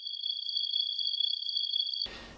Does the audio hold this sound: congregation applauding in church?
no